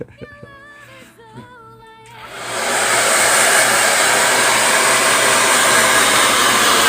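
A hair dryer switches on after a brief spell of voices and quickly rises to a loud, steady blowing roar that runs unbroken to the end.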